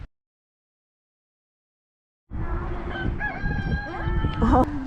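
After a couple of seconds of silence, a rooster crows loudly nearby, with a long, strained call and some clucking around it.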